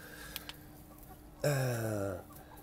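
Hen of an old heritage breed, kept in a small flock with an Araucana on a city rooftop garden in Marseille, gives one drawn-out, wavering cluck after a couple of faint taps, quiet and alone with no voices.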